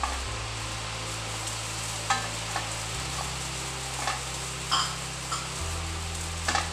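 Cumin seeds and crushed garlic frying in a pan for a squid sukka make a soft, continuous crackling sizzle, dotted with a few sharp pops and light stirring clicks, with no voices.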